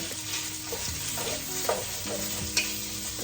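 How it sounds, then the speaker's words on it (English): Sausage for zuppa toscana browns over medium heat and is stirred in a pan, giving a continuous close sizzle with occasional soft scrapes and clicks. "Once your sausage is golden brown, let's grab something to stir that up."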